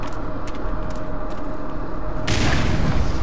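Grenade in the Black Mesa video game going off with a sudden loud boom partway through, following a stretch of low rumbling ambience and small clicks.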